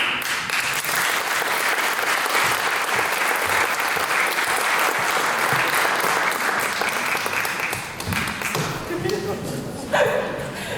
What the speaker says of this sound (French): vous demande un tonnerre d'applaudissements pour Damien Récollet